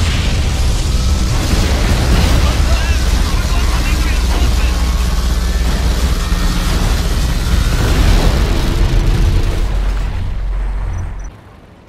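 A particle cannon fires in the real-time strategy game C&C Generals Evolution (beta 0.3): a loud, sustained roaring blast with crackling bursts that holds steady for about ten seconds before tapering off.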